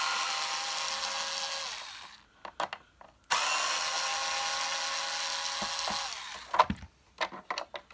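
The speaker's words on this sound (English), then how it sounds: "I have to remove the 2 screws off the switch." A power driver whirs loudly while backing screws out of the switch on a Hoover Junior 1346a upright vacuum. Two long runs come close up with a short pause between, followed by clicks and handling noises.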